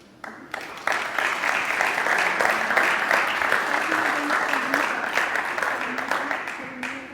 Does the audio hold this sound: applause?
yes